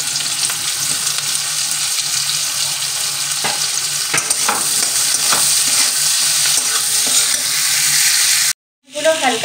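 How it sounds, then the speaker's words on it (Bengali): Chopped onion fries in hot oil left from frying potatoes, giving a loud, steady close-up sizzle with occasional stirring scrapes that cuts out abruptly near the end. "এবার এই তেলেই আমি পেঁয়াজ কুচি দিয়ে ভেজে নেব।"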